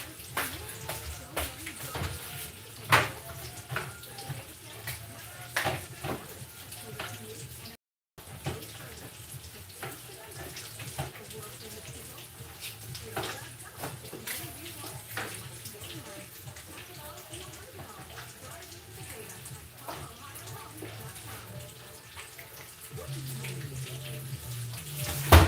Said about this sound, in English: I'm gonna put them in here and I'm gonna just rinse them.